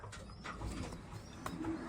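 A racing pigeon bred by Rocky Ridge Loft, a money winner back from the Blue Angel Classic race, gives soft, low coos amid a steady, noisy loft background.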